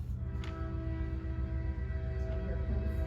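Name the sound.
train passing with horn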